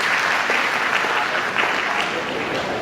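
Sustained audience applause at a Kalladi Majlis executive committee event, dense and loud clapping from a crowd filling the whole stretch without pause.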